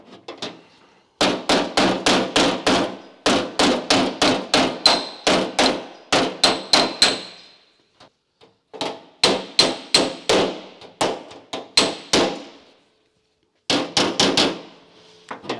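Hammer blows opening and refolding the crimp on a patch panel of a rusty car door, sharp metallic clangs in fast rhythmic bursts of about a dozen strikes each, separated by short pauses, loud and close.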